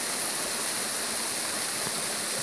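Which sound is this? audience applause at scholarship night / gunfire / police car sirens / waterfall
waterfall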